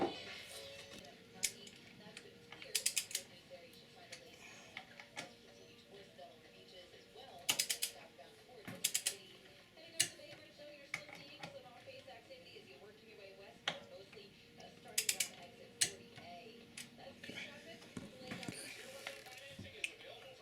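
Torque wrench tightening motorcycle front axle bolts on a bobber build: scattered quick ratchet clicks and sharp metallic bursts come close by at irregular intervals, with a voice speaking at times in between.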